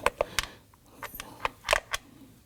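Ratchet clicking as it turns a bolt on a 2018-2024 Toyota Camry 2.5L four-cylinder engine, a few short sharp metallic ticks in uneven bursts, close and fairly quiet.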